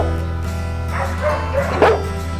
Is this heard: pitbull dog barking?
yes